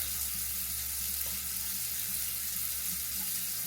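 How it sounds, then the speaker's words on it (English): Running water splashes steadily from a sink tap as a face is washed with cleansing foam, a continuous close hiss and patter without speech. "So we're gonna wash our face."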